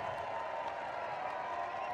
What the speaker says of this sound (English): And the Australian crowd really goes nuts.